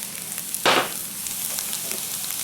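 Venison and wild pig fried rice frying in a pan, with a steady low sizzle throughout and one brief louder burst of stirring or sizzling partway through, close and without speech.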